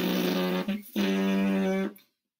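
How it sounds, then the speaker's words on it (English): A raw trumpet player's lip buzz, a steady low buzzing tone with a brief dip partway, then a second sustained buzz that stops abruptly, leaving silence. "we try to blow out so that we make a vibration, and we call that a buzz"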